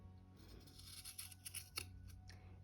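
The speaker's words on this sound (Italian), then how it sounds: "avere delle forbici che tagliano in modo molto netto" Sharp scissors snip through a macramé leaf made of cord, a quick series of crisp close-up cuts in an otherwise quiet room with no talking.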